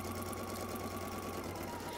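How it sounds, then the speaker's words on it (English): A sewing machine runs steadily, stitching a quilt triangle onto a pieced row, with a continuous close mechanical whir and no talking. "sew the other triangle onto this row"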